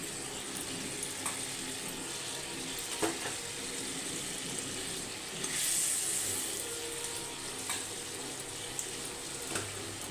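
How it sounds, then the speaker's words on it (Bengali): Water poured into a pan of hot oil while cooking bhola fish sets off a steady close sizzle, swelling into a louder hissing burst partway through before settling back; no one speaks. "এবার আমি ওতে পরিমাণ মতন জল দিয়ে দেবো।"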